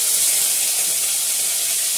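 Potatoes fry in a pan with a steady, close, bright sizzling hiss that stays even and continuous throughout.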